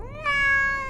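A single close cat meow, a clear rising then sustained tonal cry lasting most of a second, heard alone indoors.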